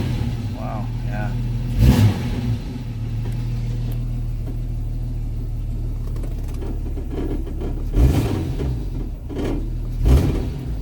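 A 1990 Jeep Cherokee XJ with the Renix 4.0 engine and swapped Volvo injectors settles into a steady, smooth idle. Sharp throttle blips break in now and then, and the idle returns quickly after each one; someone talks over parts of it.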